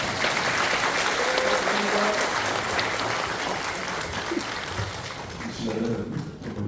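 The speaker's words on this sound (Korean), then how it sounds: "자, 박수 주세요." Sustained applause from a congregation at a pastor ordination service in a Korean presbytery church, loud and steady throughout with faint voices mixed in.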